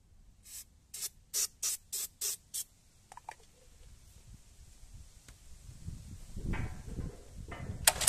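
Quick-start fluid for a garden cultivator engine is sprayed in seven crisp, evenly spaced hissing bursts, close and clear, followed by soft handling clatter and rustling.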